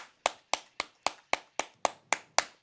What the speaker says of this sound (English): Round of applause for your boy.